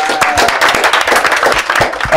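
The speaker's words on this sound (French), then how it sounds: "On applaudit s'il vous plaît." An audience claps at a community gathering, a burst of many hands with dense, irregular slaps that hold steady for a couple of seconds. A voice is faintly present underneath.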